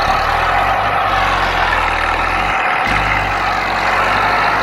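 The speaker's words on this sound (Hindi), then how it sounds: "बहुत जोर लगा रहा है महिंद्रा यूवी" A Mahindra Yuvo tractor engine strains at a steady loud drone while pulling a sand-loaded trolley, a dense continuous rumble with a brief dip midway, close and with no talk.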